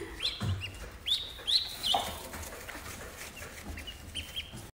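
Chicks and ducklings chirping and peeping in short high bursts, a few clucky calls mixed in, close by with a soft background hum.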